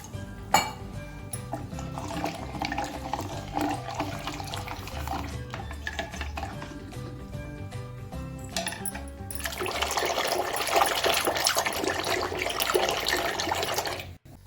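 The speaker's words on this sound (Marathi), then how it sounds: "यामध्ये थोडंसं पाणी टाकून घ्यायचे आपल्याला लागेल तेवढं" Water is poured into cooked dal in a pot. Quiet clinks and stirring come first, then a fuller, steady stream of liquid fills the last few seconds.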